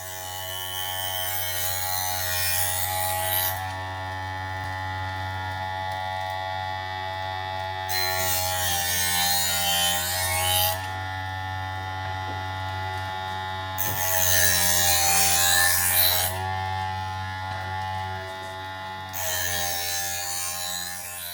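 A Narcissus electric knife sharpener hums steadily as a knife is drawn slowly through its slots, with several rising gritty grinding passes layered over the constant motor drone and no talk.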